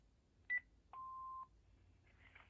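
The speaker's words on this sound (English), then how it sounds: "Leave message after the beep." A Panasonic KX-TG6841 cordless phone answering machine sounds a short high double pip, then a sustained lower beep lasting about half a second, close and clean in a quiet room.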